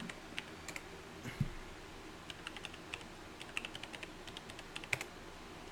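Scattered light taps on a computer keyboard, sparse and irregular, sound close and fairly soft against a low steady room hum, with one duller thump early on.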